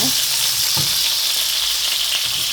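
Plenty of onions frying in a pan for tomato rice, a loud, dense, steady sizzle up close with a few light knocks of stirring.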